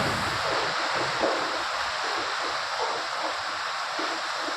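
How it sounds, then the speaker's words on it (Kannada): Floodwater rushes past the front of a house after heavy rain, a continuous broad hissing roar of flowing water, steady and fairly loud with no talking. "ನೋಡಿ ಏನು ನೀರು ಹರಿತಾ ಇದೆ ನಮ್ಮ ಮನೆ ಮುಂದೆ"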